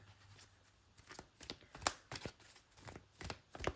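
Tarot cards being shuffled by hand, a quiet series of crisp riffles and taps in an irregular rhythm, close and faint.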